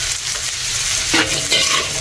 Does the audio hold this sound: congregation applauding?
no